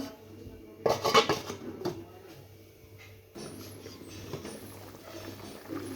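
Metal clatters as a lid goes onto a pot of simmering bean, potato, tomato and fish curry, a brief cluster of clinks near the start followed by quiet kitchen background.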